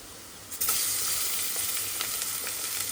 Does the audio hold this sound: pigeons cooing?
no